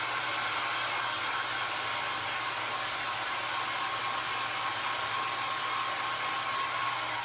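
A hair dryer blows steadily on a handmade vintage book, a constant loud whooshing hum with a faint tonal whine that runs unbroken from start to end, with no voices.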